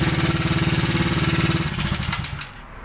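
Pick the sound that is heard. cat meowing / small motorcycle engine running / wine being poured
small motorcycle engine running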